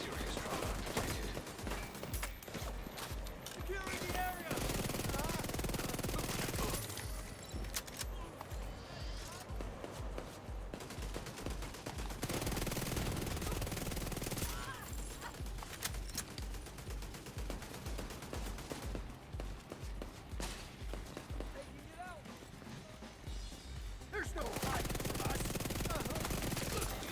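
An automated turret in The Division 2 fires long, dense streams of rapid shots, loud and almost continuous, with brief pauses between bursts, while voices speak over the combat.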